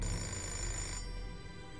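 A telephone rings in the video game Fahrenheit: Indigo Prophecy Remastered, a steady electronic trill that cuts off partway through, leaving a quieter hum behind.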